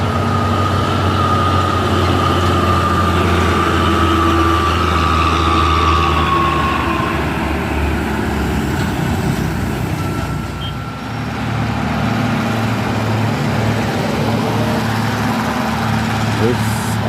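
Old Fuso truck engine running on a hill road, a steady low diesel rumble with some mechanical whine, fairly close and continuous, with voices talking over it.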